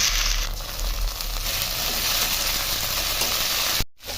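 Chopped onions and ginger paste frying in hot oil in a pan, a steady close sizzle that holds without a break, with a short sharp dropout near the end.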